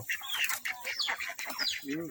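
Turkey hens cluck and chatter in a short burst of quick, high calls close by, with a brief lower warbling note near the end.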